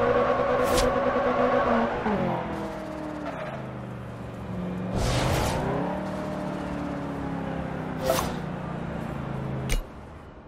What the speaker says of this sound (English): McLaren P1. Man, this thing can move.